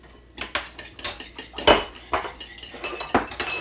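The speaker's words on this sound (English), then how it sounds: "And I'm going to whisk that together." Almond milk and vanilla whisked in a bowl for low-fat chocolate banana muffins, a metal whisk clinking and scraping against the dish in quick uneven strokes, close and fairly loud with no talking.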